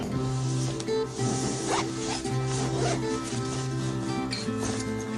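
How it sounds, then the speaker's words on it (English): An Eagle Creek compression packing cube is zipped shut up close, a run of bright zipper rasps with brief pauses between pulls, and a faint dog bark in the background. "And here we go, we're zipping it up, fits in there just fine"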